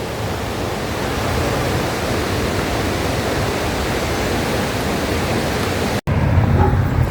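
A mountain river in the Tian Shan rushes steadily, a loud broadband roar of flowing water that runs unbroken for several seconds, cuts out abruptly for an instant, then resumes.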